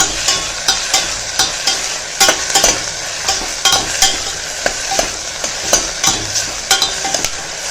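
Ten crushed garlic cloves and onion sauté in oil in a pan for a tomato masiyal, with a steady close sizzle broken by regular scraping stirs of a spoon against the pan.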